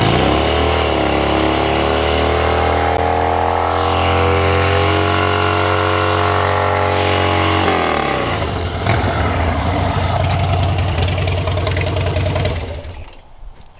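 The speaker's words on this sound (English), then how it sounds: "I had to do a burnout before getting a new tire." A motorcycle does a loud burnout to warm its tire, the engine held at a steady high roar that climbs, then breaks into rough revving before cutting off at the end.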